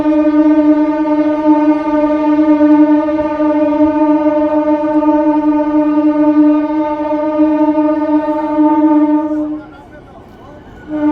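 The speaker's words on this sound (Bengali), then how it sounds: "বড় গোপীনাথপুর রেল স্টেশনে ঢুকছে ট্রেন জয়রামবাড়ি থেকে প্রথম ট্রেন" The inaugural train from Jayrambati pulling into Bara Gopinathpur station sounds a loud, sustained horn for about nine seconds before it cuts off, leaving crowd noise beneath.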